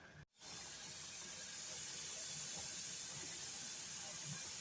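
Steam venting steadily from a pressure canner while green beans are canned, a loud continuous hiss that begins after a brief gap and then holds constant and close.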